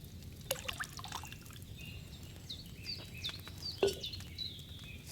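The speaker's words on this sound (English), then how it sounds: "So, what did you pour in there? Wine, of course." Wine poured from a pitcher into a cauldron in Kingdom Come Deliverance 2 makes a light trickle and scattered drips, with a couple of sharper splashes over a quiet room ambience.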